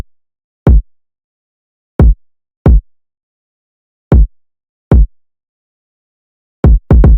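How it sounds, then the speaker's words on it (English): Short, punchy kick drum hits from a 2000s-style hip-hop beat land in a sparse, bouncy pattern with uneven gaps and a quick double hit near the end, loud and isolated against silence. "So a very simple kick pattern,"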